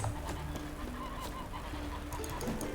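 A goose honks repeatedly in a video game amid busy game noise, the calls harsh and fairly close while the player fights it.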